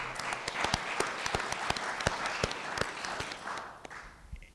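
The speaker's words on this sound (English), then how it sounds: "So please give them a round of applause." A small audience applauds at a library event in Montecito, scattered claps blending into steady clapping that thins out and trails off at the end.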